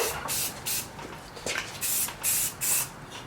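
Short bursts of aerosol spray paint lay a light first coat of primer onto bare car body metal, several hissing passes at close range separated by brief pauses.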